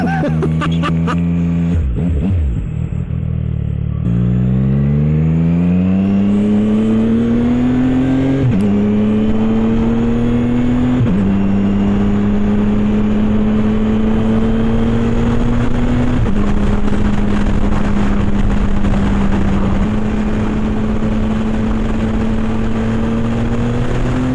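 A 675SR-R motorcycle engine runs cold while being ridden, a loud close steady drone whose pitch climbs and steps between gears, with a brief dip near the start and wind rush throughout.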